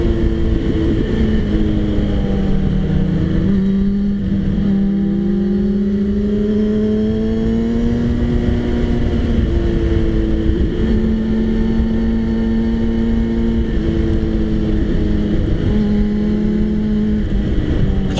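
Motorbikes riding fast along a road, a loud continuous engine drone with rising and falling pitch as the revs shift, close and steady throughout with no talk.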